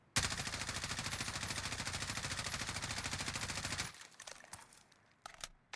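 An automatic weapon in a video game empties a full 50-round magazine in one long, evenly paced, loud burst of rapid shots, followed by faint clicks and handling sounds once it stops.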